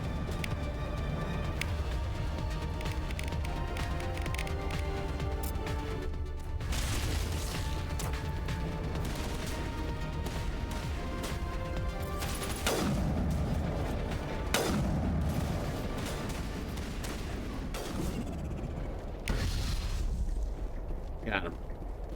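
Incoming gunfire strikes the player in Mass Effect Legendary Edition, scattered heavy impacts and booms over a dense, continuous battle soundscape with music, while a person talks across it.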